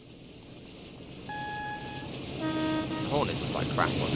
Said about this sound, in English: It's like it's a German train horn.